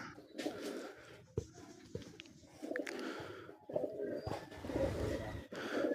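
Pigeons coo softly nearby in low, repeated throaty calls, overlapping each other, with rustling and faint background noise.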